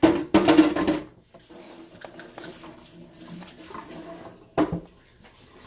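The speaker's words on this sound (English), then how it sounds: "we're going to wash my hands" Tap water running over hands being washed in a kitchen, loud gushing bursts at the start and again near the end, with quieter splashes and drips between, no talk.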